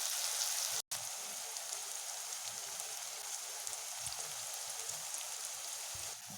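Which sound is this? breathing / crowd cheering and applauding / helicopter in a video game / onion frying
onion frying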